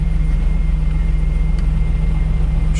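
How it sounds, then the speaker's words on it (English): The blower motor of a Hummer runs with a steady, loud, close-up whirring hum and low drone that stays even throughout, with no talk. "Blower motor now works."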